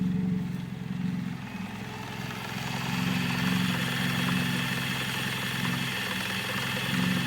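An old Toyota Corolla KE30 engine idles just after its first start in 18 years, running steadily and smoothly at a low, even hum with a slight vibration. Heard fairly quietly and alone.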